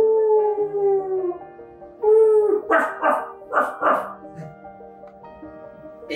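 A dog gives several short, loud barks in quick succession, following a long drawn-out howl, close and clear against an otherwise quiet background.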